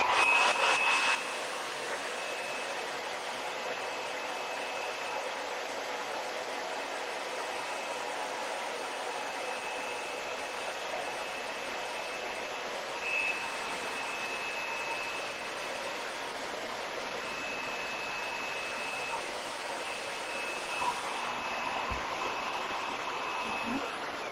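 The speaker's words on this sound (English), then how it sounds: "Now I'm going to hit it with a hairdryer real quick." Hair dryer blowing steadily on a piece being painted with Dixie Belle Sea Spray, a constant loud airy whoosh with a faint motor whine, running unbroken for over twenty seconds close by.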